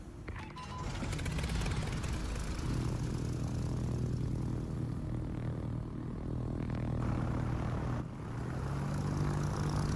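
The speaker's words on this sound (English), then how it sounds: "I'm gonna start with my torpedo bombers" Torpedo bomber squadron engines drone in World of Warships, a steady loud propeller hum with shifting pitch that holds for the full ten seconds, with no speech.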